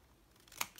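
Scissors make a single quick snip through paper folded into a photo pocket, a faint, sharp cut rising from quiet room background near the end.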